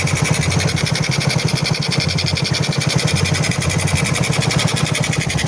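A motorcycle engine fitted with a trail carburetor runs close up, a loud, rapid, evenly pulsing exhaust beat holding steady throughout with no voices.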